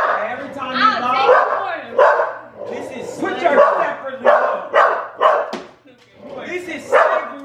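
Two pet dogs bark and yip in repeated short bursts close to the microphone, indoors at a home, with a few whimpering tones between barks and no clear talk.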